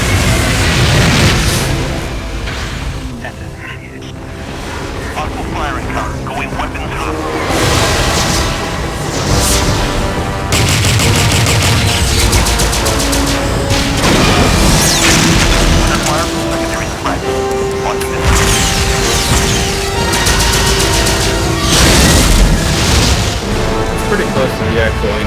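Intro of the Shattered Steel video game, with loud, continuous rumbling explosions and booms layered under stirring martial music, and a voice talking over it.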